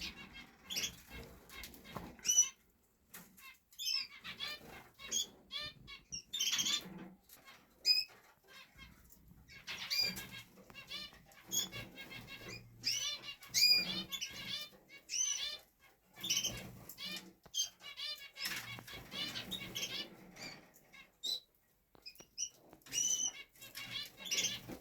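Canaries in an indoor birdroom during the breeding-condition season, with busy chirping calls and repeated soft wing flapping and fluttering scattered throughout, fairly close and continuous without any talk.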